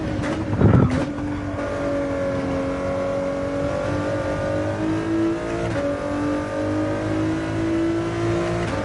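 Racing car engine in a night-time video game race, a loud close steady drone that climbs slowly in pitch as it accelerates, with a brief burst of noise near the start.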